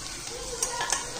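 A thick millet and fenugreek thalipeeth flatbread sizzles steadily in oil in a pan, a continuous close frying hiss with a few sharper crackles and pops.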